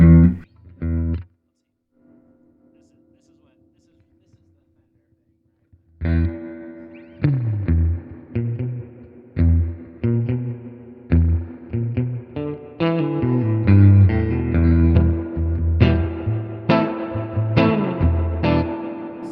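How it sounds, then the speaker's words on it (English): An electric guitar plays chords and notes drenched in heavy reverb and echo, with gaps and sustained tones washing into a dense wall of sound. "Just that wall of reverb."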